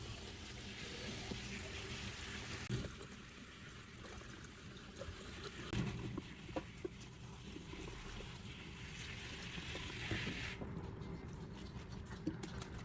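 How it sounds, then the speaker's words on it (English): Clean running water pours over eggplant pieces during a rinse, a soft, steady splashing trickle with small clinks and handling noises, fairly quiet and close, ending abruptly as the flow cuts off. "give them a quick rinse under clean water."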